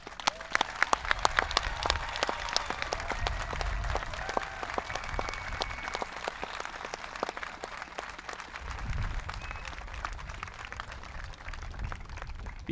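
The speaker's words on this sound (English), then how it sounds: "Let's give them one more round of applause." Sustained applause from a crowd at a 2021 high school graduation ceremony honoring the graduates, dense and steady for the full stretch, with scattered loud individual claps near the start and faint voices mixed in.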